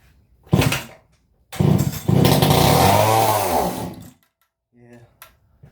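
An old Stihl 031AV chainsaw with fuel trouble fires up in short bursts, revving with a rising and falling engine snarl for a couple of seconds before dying out, then silence and a faint sputter.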